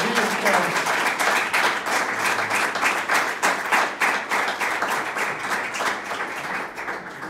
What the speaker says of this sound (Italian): Un sentito applauso e ringraziamento a Francesco.